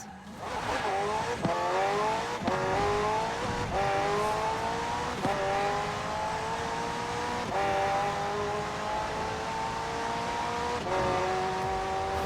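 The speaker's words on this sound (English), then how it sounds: "The car's blistering performance is delivered by a twin-turbo V8, supplemented by a McLaren ECU electric motor and instant power assist system" A McLaren twin-turbo V8 hybrid in Forza Horizon 4 revs hard through repeated rising gear pulls, each upshift cutting the pitch before it climbs again, loud and continuous with faint tyre squeal.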